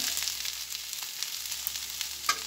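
Pasta with salt and turmeric powder frying in a pan, a bright, close hiss with soft crackles and faint scraping as it is stirred, no talking.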